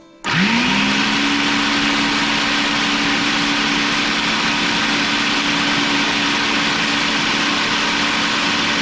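Blender on a steady loud whirr, pulsing green seasoning ingredients with a little oil, a sharp start rising into a continuous motor drone held throughout.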